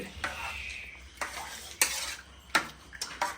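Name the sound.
stirring cooked meat and rice in a cooker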